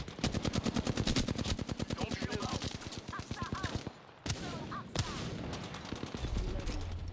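Apex Legends gunfire crackles in quick, tightly spaced automatic bursts, loud and close at first and then more scattered, while players talk over the shooting.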